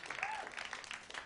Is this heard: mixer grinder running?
no